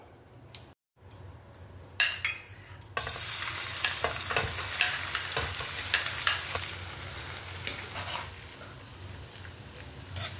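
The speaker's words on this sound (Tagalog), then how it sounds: "Prituhin na natin yung tukwa. Lagay tayong mantika." After a brief clatter, tofu hits hot oil and a dense, crackling sizzle takes over, steady with occasional sharper pops and stirring clicks.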